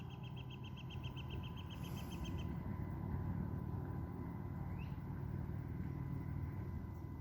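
A model tugboat's small motor runs steadily at about quarter throttle outdoors, a low continuous hum with a faint engine rumble and birds chirping in the background.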